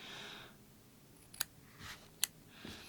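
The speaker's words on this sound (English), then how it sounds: "Not the worst scissors I've ever seen, but they definitely could be a little bit better." Scissors snip cotton wick at the edge of a vape coil deck, two sharp, faint clicks about a second apart in an otherwise quiet room, with soft rustling between them.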